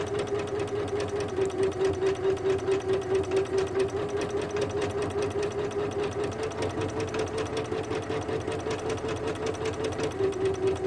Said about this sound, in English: the other thing I love about quilting on an embroidery machine is you could really put together a really quick quilt in less than a day